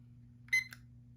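A kitchen timer is stopped with a short electronic beep, a brief bright tone followed by a second quick blip over a low steady hum, with no one talking.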